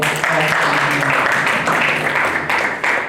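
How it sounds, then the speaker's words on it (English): An audience at a forum on women social entrepreneurs gives a loud, sustained round of applause, thick and continuous, with some voices mixed in. "I think we should give her a round of applause."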